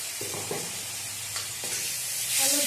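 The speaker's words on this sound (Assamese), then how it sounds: "এইখিনি মই অকণমান ভাজি থাকিম" Spiced tomato fries in a pan for a prawn curry, a soft steady sizzle with a few brief scraping stirs near the start and middle, close and fairly quiet throughout.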